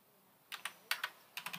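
Soft keystrokes on a computer keyboard come in three short quick bursts with pauses between, quiet and close, while a name is typed into a web form.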